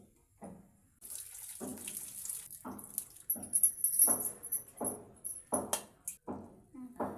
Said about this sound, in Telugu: ఇట్లా ఉడికినాక వార్చుకోవాలి